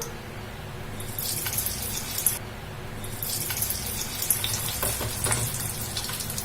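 Snack mix placed in hot oil sizzles and crackles steadily in a pan, a dense close bubbling hiss with small pops throughout, no talking.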